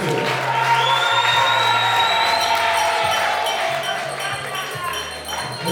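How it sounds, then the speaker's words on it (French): Guests at a religious wedding celebration clap and cheer loudly, sustained applause mixed with whoops over a low thumping background, tapering slightly toward the end. "si on peut l'applaudir encore très très fort"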